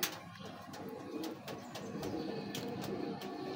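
Pigeons at a pigeon farm coo softly and intermittently over steady background noise, with scattered sharp clicks and rustles; no one speaks.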